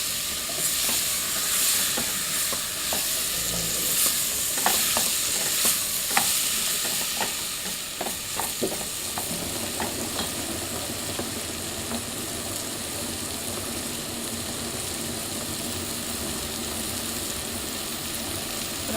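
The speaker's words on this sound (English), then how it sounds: "Mix this in, ensure that it's coating all my potatoes and all my onions" Potatoes and onions are stirred through a curry mixture in a pan, with busy scraping and clinking of the spoon early on that settles into a steady loud sizzle and hiss.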